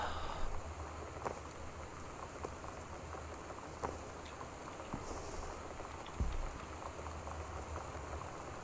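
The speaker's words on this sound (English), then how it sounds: "I do like the rain that you can hear just all the time playing the game." Steady rain pours continuously as ambience in the exploration video game Gone Home, a soft, even patter with occasional faint drips and knocks, low in level and without talk.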